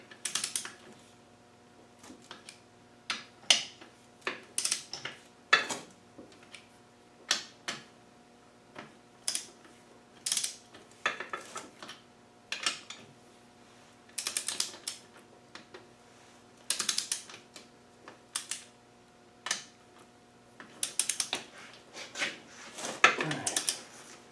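Bolts on a Land Rover LT230Q transfer gearbox, built for a Defender Td5, being nipped down with a wrench: sharp, irregular ratchet-like clicks and metallic taps close by, with quiet gaps between them and no talking.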